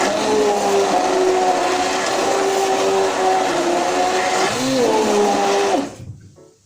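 A mini hand blender whirs loudly and steadily while blending pineapple for homemade Frooti, a close, continuous motor drone with a slight pitch dip near the end before it cuts off.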